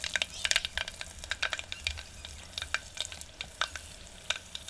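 Asafoetida and dried red chillies crackle and sizzle in hot oil in a home kitchen, sharp irregular pops and spatters over a low background hiss, close and fairly quiet, no talking.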